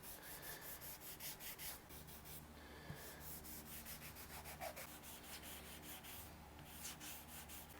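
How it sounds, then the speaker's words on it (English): A guitar finish is level-sanded by hand with 1200 grit abrasive film, quiet steady rhythmic rubbing strokes repeating throughout, close up with no voices. "I've got 1200 grit Super Aslix film on here. And we're just going to lightly start to sand this."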